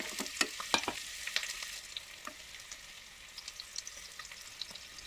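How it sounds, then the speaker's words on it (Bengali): Onions frying in a pan until browned, for an Awadhi chicken korma: a steady broadband sizzle with sharp clinks and scrapes of stirring near the start, settling to a quieter continuous crackle. "পেঁয়াজগুলো দিয়ে এবার এটাকে মোটামুটি একটু বাদামি করে ভেজে নেবো পেঁয়াজটাকে।"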